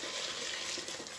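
Custard mixture for île flottante is poured back into a saucepan, a steady soft liquid splash and trickle running continuously at close range with no talk.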